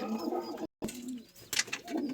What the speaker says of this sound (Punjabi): ਇੱਕ ਆਪਾਂ ਨੇ ਅੱਜ ਇਹ ਕਬੂਤਰ ਡਾਇਆ ਸੀਗਾ ਆਪਣਾ ਪੁਰਾਣਾ